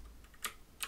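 A computer keyboard is typed on quietly, with two distinct close key clicks and a few fainter taps in under a second, no voice over it.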